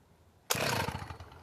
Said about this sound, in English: I'm not even going to choke it. Watch this. One pull.